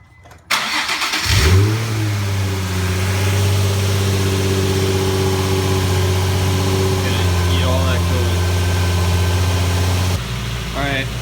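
A Nissan 350z HR engine cranks, catches and settles into a steady, loud idle while its coolant system is bled after a coolant hose replacement, with a brief rev near the end and faint voices over the engine.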